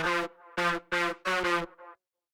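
A thick, distorted three-layer Serum synth bass in jump-up style plays four sustained hits with short gaps, followed by a quieter short tail; loud and up front, no talking.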